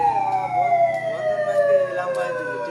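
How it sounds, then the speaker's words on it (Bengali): A security alarm siren at a Bandhan Bank branch wails continuously, a loud steady tone with slowly falling pitch sweeps, with faint street noise underneath and no talking. "সেই বন্ধন ব্যাংকের মধ্যে থেকে কিন্তু যে সাইরেনের আওয়াজ বা যে সতর্কবার্তা হয় সেই সতর্কবার্তা আসছে।"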